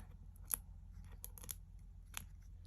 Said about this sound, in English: So let's peel off.